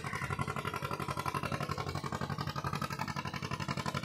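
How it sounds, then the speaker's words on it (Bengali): Steady, pulsing chug of an engine on a heavily loaded sand-carrying boat passing on a river, a rhythmic mid-pitched throb at moderate distance with no voices. "এই দেখো, এটা হচ্ছে বালির বোট যাচ্ছে।"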